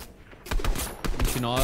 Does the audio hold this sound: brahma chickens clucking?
no